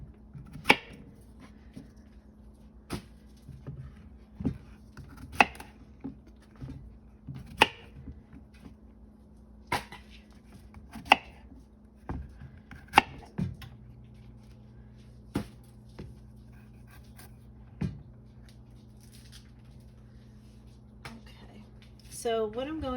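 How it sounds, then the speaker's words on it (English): Knife slicing six small zucchini into thin slices on a cutting board, giving sharp, evenly spaced cuts close by, with quieter background noise between strokes and no talking over them. "cut the zucchini in half, and then just make thin slices."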